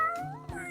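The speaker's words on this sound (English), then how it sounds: ""Meow, meow," cried the cat." A cat meows once in a storybook farm setting, a short rising and falling cry heard close and fairly soft, alone without talk.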